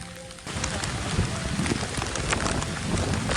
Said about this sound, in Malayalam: നല്ല മഴയാണ് ഗൈസ്